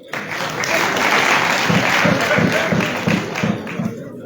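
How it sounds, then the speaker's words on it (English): An audience in a parliamentary hall bursts into loud, sustained applause, with some rhythmic heavier claps or thumps in the middle of the ovation. "Clap for that one."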